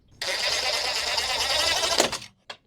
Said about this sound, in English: And I just got to put some screws in here.